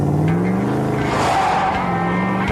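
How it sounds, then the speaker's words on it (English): A truck's tires squeaking and squealing on desert sand, a continuous loud engine-and-tire roar with wavering squeal tones, close and steady throughout. "the truck squeaks and squeals on desert sand"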